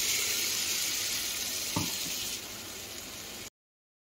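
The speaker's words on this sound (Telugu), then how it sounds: "ఇప్పుడు మనం మిక్సీ వేసి పెట్టుకున్న పచ్చడి మొత్తం ఇందులో వేసి ఒక 5 నిమిషాలన్నా ఫ్రై చేయాలి" Ground okra chutney frying in hot oil with asafoetida, giving a steady close hiss with one soft knock partway through, before cutting to silence.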